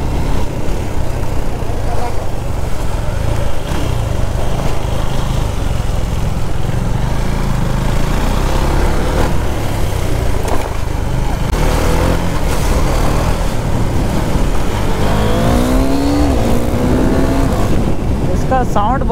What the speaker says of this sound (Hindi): साउंड बहुत मस्त लगता है एग्जॉस्ट का।